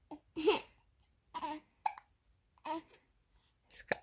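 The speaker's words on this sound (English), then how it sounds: "He's got the hiccups at the moment" Baby of about five weeks hiccuping, short abrupt bursts spaced irregularly about every second, close and soft, with small vocal sounds between them.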